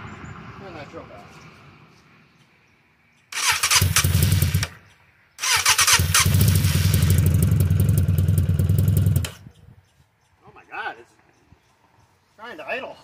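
A 750cc Katana go-kart engine fires up in two loud stretches, the second running rough and steady for a few seconds before dying, with someone talking around it.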